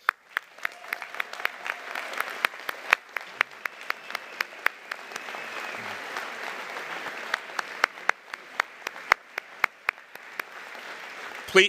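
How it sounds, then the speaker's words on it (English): Applause at a class of 2022 commencement ceremony, a moderate spread of clapping from the audience with sharp individual claps standing out close by, continuing for over ten seconds. "Please give them a round of applause."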